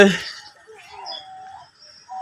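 Birds at Rangpur zoo, including an unnamed species and parrots nearby, give faint thin chirps and whistles at a distance after a brief burst of talking at the start.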